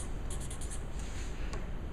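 A pen or marker writes labels on the sides of a sculpture armature piece, giving a few short scratchy strokes in a quick series over a steady background hiss.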